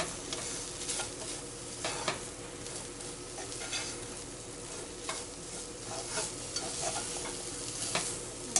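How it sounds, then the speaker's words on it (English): Food fries in a pan as ginger and garlic powder are stirred in, producing a continuous sizzle broken by repeated scraping, stirring strokes and occasional utensil taps on the pan. "stir that up, mix it"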